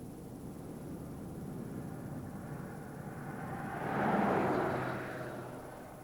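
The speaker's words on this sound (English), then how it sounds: "a bizarre contraption made from two jet engines mounted on an old tank chassis, blasting atomized water into the fire at 600 miles an hour" Two jet engines mounted on an old tank chassis, blasting atomized water into an oil well fire in Kuwait, make a steady distant roar that swells louder near the end and then eases, with no talk.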